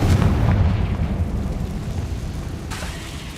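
Confringo blasting curse going off in Hogwarts Legacy, a loud booming blast with heavy low rumble that decays into a sustained roar over a few seconds.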